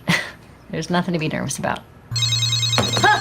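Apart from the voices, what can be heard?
telephone ringing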